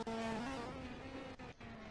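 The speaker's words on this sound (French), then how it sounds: "Donc voilà, Ice qui ressort du Rivazza ici" A Ferrari Challenge race car at the Imola circuit during a Trofeo Pirelli race, accelerating out of the Rivazza corner, its engine a steady high-pitched drone heard from a distance that shifts in pitch once.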